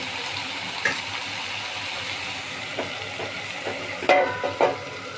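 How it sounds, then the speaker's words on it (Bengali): A paste of banana peel seasoned with salt and turmeric fries in a pan covered with a plate, a soft continuous sizzle with scattered clinks and spoon scrapes, close and fairly quiet, no voices. "এখন এটাকে ঢাকা দিয়ে দিয়ে আমি বেশ কিছুক্ষণ ভেজে নেব।"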